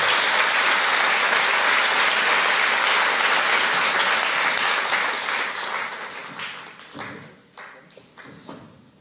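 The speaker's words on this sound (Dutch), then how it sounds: "En geef ze een hartelijk applaus alsjeblieft." Audience applause at a post-film discussion panel in Amsterdam's De Balie, a dense sustained clapping from a full room that tapers off into scattered claps near the end.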